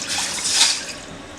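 A full cup of water is poured into a pan set on a lit gas stove, giving a short, steady splashing rush that swells briefly and then eases off.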